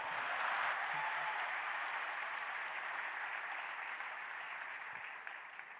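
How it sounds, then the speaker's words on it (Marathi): A live interview audience claps loudly at a Marathi public talk with Tukaram Mundhe, a dense sustained wash of applause that holds steady for several seconds and then begins to thin near the end. "टाळ्या एकदा जोरात."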